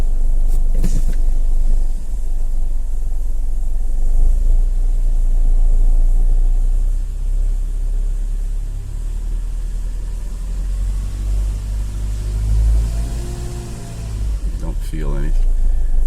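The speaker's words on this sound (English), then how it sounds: "Let's try brake torquing this thing." A 2009 Subaru Forester with its traction control light on and cruise light blinking, engine revving loudly under brake torque, a steady deep rumble that swells and sags over several seconds, close and continuous.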